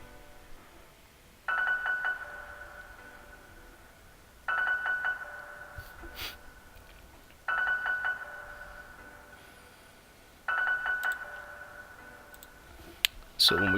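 FL Studio keys melody with stuttered notes, half-speed Gross Beat, EQ and reverb, repeating in four bright bursts roughly every three seconds over a quieter washed background, no voices.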